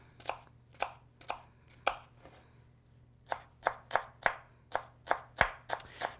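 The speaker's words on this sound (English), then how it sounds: "And just get a really nice fine mince in there." A chef's knife finely minces shallots on a cutting board, crisp rhythmic chops in two bursts separated by a short pause, close and clear with no talking.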